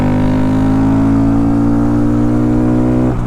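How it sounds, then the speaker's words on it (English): Honda Grom motorcycle with a Polygon exhaust: a steady, close, growly engine drone holding a strongly tonal, buzzing pitch, with a slight drop right at the end. "It's got balanced, growly, throaty tone all the way up and down the rev range."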